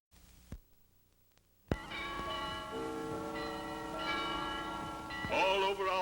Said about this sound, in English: Yes, the bells are ringing.